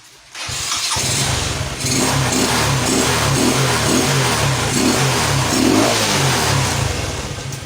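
A carburetted engine with a freshly tuned carburetor starts up and is blipped through a series of quick, rhythmic revs, loud and close, with no talk.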